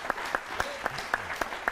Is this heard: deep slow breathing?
no